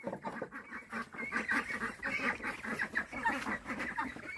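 A flock of ducks quacking together in a dense, continuous chorus of overlapping calls, fairly close and loud, with no talk.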